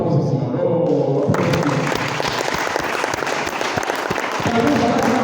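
A church congregation breaks into loud, dense applause during a worship service, the clapping surging in and continuing steadily over a low rumble of voices and room noise.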